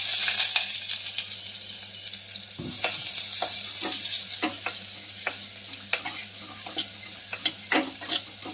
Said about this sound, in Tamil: இப்போ கடுகு வெடிச்சிட்டு வெங்காயம் போட்டுடலாம்.